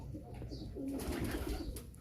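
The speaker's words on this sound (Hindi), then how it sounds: "ये गुम्बद वाली कबूतरी है और साथ में इमामदीन कबूतर लगा हुआ है" Domed pigeons, a female and an Imamdeen male, coo in soft, low, rolling calls close by, with a faint rustle of birds around them.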